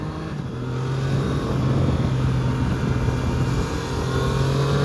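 Onboard ride on a Triumph Tiger Sport 660 motorcycle, its engine a steady loud drone with a constant tone, accompanied by wind rush throughout.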